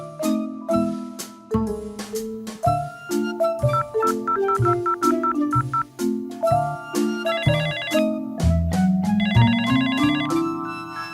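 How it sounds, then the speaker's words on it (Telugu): A melodic phone ringtone plays while a call is being placed, its bright tune looping steadily and fairly loud with no talking over it. "సర్లే, జోన్స్కే కాల్ చేద్దాం."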